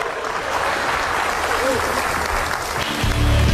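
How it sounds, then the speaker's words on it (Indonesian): Studio audience applause for a rock and roll musical guest on an Indonesian TV talk show, a steady broad wash of clapping throughout with some voices mixed in and a louder swell at the end. "Beri tepuk tangan yang meriah untuk Rock and Roll."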